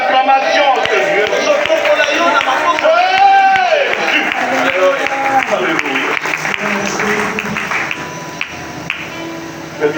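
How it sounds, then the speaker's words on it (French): A worship congregation claps steadily and raises acclamations, with sung and shouted voices running over the continuous applause throughout. "Nous t'élevons par des acclamations"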